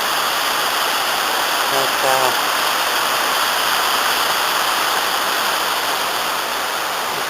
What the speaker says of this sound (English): I'll trace my steps to this waterfall area. I think almost certainly artificial waterfall.